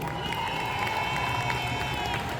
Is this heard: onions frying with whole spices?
no